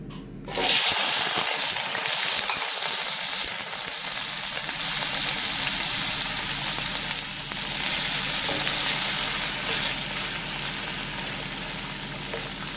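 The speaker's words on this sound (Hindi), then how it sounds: "अब इन प्याज़ों को इतना फ्राई करना है कि इनका कलर चेंज हो जाए और ये सॉफ्ट हो जाए" Onions hitting a hot pan and frying after bitter gourds have been cooked in it, a loud close sizzle that starts suddenly and holds as a dense, steady hiss with faint stirring, no talking.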